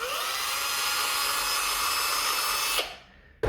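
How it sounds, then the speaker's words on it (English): A power drill with a 3mm bit boring through spacers for model aircraft landing gear, a steady high whine running continuously before cutting off, then a brief restart. "Get my 3mm drill bit and just"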